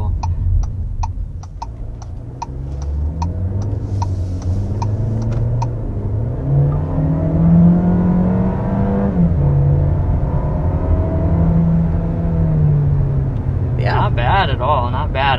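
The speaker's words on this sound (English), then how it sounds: "The turbo is very pronounced in terms of the sound" A 2022 Volkswagen Jetta's turbocharged engine accelerates, its rising drone and whir running steadily beneath people talking inside the car.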